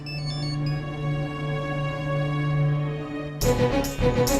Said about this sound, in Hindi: तेरा फोन बज रहा है शायद।